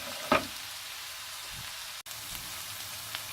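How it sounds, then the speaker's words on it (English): Onions sizzle steadily in a hot pan as they are stirred, a constant frying hiss with a brief scrape near the start, moderately quiet and close, without any speech. "make sure you are mixing it thoroughly, otherwise the bottom onions get simply burnt."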